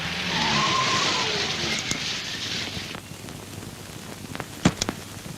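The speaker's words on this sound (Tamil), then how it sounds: "டிரைவர், நீ கொஞ்சம் வண்டியை நிறுத்து." A car brakes to a stop on a road as rain begins, giving a rushing tire and engine sound that fades after a few seconds, followed by faint clunks and a sharp knock.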